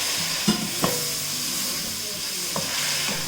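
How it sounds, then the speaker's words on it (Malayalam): Chopped tomatoes sauté in a pan, a continuous close sizzle and hiss broken by a few sharp scrape-and-tap sounds as they are stirred. "നമ്മൾ ഈ കട്ട് ചെയ്ത് വെച്ചിരിക്കുന്ന ടൊമാറ്റോ ഇതിലേക്ക് ഇട്ടിട്ട് വഴറ്റിയെടുക്കാം."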